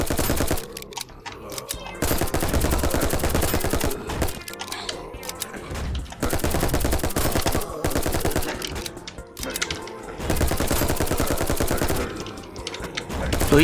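Dense bursts of rapid gunfire from a video game fill the clip in long stretches, loud and close, with brief lulls between volleys and occasional voices underneath.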